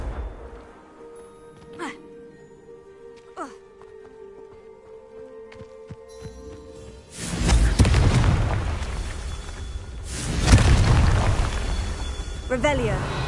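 A Confringo spell explodes in Hogwarts Legacy with a deep booming blast that swells and rumbles, followed by a second explosion, after quieter game chimes and a voice.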